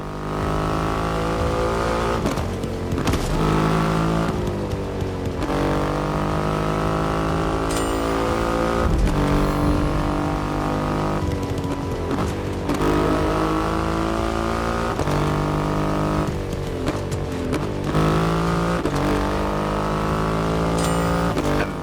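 A Triumph Rocket 3 motorcycle with its 2.5-litre engine roars in The Crew Motorfest racing game, a loud, continuous, close engine drone that repeatedly revs up and drops back through gear changes.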